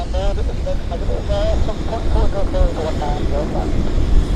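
A WestJet airliner departing Vancouver Airport drones with a wavering engine whine over steady roaring noise, while a voice talks over it throughout.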